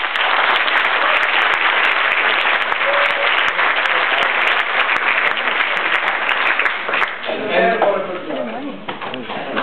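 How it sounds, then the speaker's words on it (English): Strong, sustained crowd applause before a winner is announced, loud and dense for about seven seconds, then fading as voices take over. "very strong round of applause"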